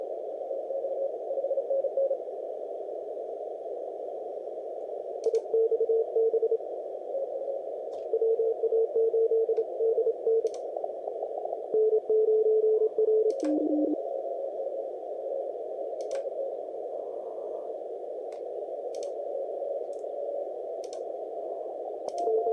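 Morse code CW signals on the 10 meter amateur band from a radio receiver: a steady tone with intermittent keyed dots and dashes from several stations, faint static crackles scattered through, and no talking.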